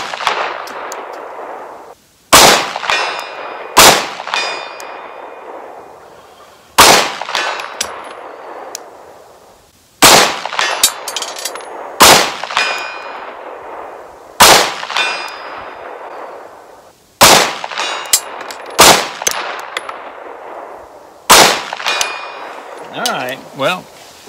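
Springfield Echelon 9mm pistol fired at a distant steel target outdoors, each sharp shot followed by a ringing metallic clang, about a dozen shots in irregular pairs and singles with long decaying ring between them.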